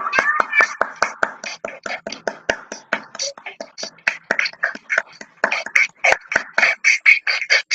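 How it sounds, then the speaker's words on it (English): Young children in an online playgroup class clap their hands, sharp distinct claps in a quick, slightly uneven rhythm that speed up and grow louder toward the end, with faint voices in the background. "Okay, all of you clap. Clap for yourself."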